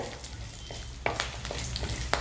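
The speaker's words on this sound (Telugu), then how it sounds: "చూసారా ఎలాగ వేగుతున్నాయో" Spices fry in oil for a dal tempering, giving a soft, steady sizzle close by with a few sharp pops and crackles scattered through it. The sound is quiet and no one speaks.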